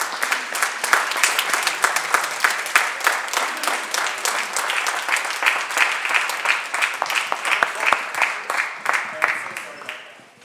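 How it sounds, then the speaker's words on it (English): Standing applause in a state Senate chamber honoring a departing senator: dense, sustained clapping from many people filling the room, loud and steady throughout before tapering at the end. "if you could all stand and give a nice Senate congratulatory clap for Senator Portantino."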